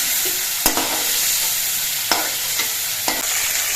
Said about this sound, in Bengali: চিংড়ি মাছগুলো ভেজে নিয়েছি এবার নামিয়ে নিচ্ছি